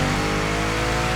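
Citroën GT supercar in The Crew Motorfest, its engine revving loud and close in one dense continuous roar with buzzy harmonics and no talk.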